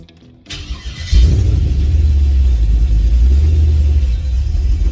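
A station wagon engine cranks briefly and catches on the first turn without throttle, then settles into a loud, steady low rumble that runs close by for the rest of the span.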